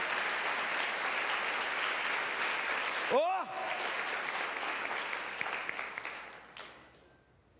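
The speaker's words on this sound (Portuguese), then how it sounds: "Quero ver se vai continuar ainda aplaudindo." A church congregation applauds steadily in a dense wash of clapping, a voice exclaims partway through, and the applause then thins and fades out at the end.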